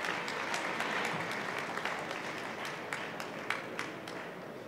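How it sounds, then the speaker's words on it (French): Steady audience applause fills an award ceremony for the EUROBOIS 2018 trophies, a dense wash of many hands clapping at moderate distance with a few sharper claps standing out, no voices over it. "vous pouvez encore applaudir"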